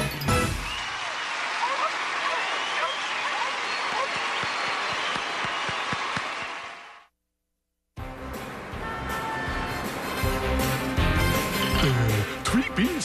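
Cartoon audience applause and cheering after a stage magician pulls a rabbit from a hat at a theater show, loud and sustained, cutting off abruptly into a brief silence before another burst of dense clapping.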